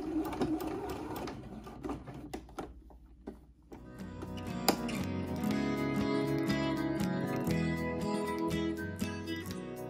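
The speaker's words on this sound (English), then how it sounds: "I'm gonna do a double seam right on the outside of that" A sewing machine stitches a double seam on a rag doll horse, starting with a few short tentative bursts and then running in a steady, close mechanical chatter.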